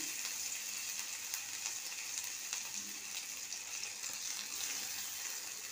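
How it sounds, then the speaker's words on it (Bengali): Dried chilli, bay leaf and ginger fry in oil in a pan for a vegetarian moong dal, giving a soft, steady sizzle and crackle that runs evenly throughout at low volume. "প্রথমে ভালো করে আদাটা ভেজে নেব।"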